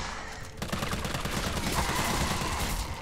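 Rapid bursts of gunfire against an enemy in Resident Evil 3, a dense run of shots filling the whole stretch at steady loudness, with no talking over it.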